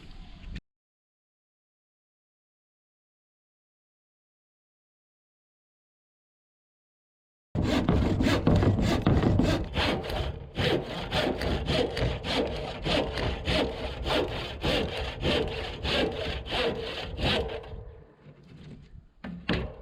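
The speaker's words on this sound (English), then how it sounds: "this is going to be a handsaw job" A handsaw cutting through a wooden board for a steel balcony build, heard as steady, rhythmic rasping strokes that are close and loud, starting after a long silence and continuing for roughly twelve seconds.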